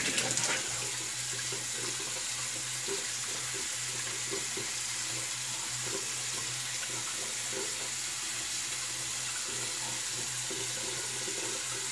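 Tap water runs steadily into a sink for a rinse after an open-comb safety razor shave, a continuous close hiss of flowing water with no pauses and no talking.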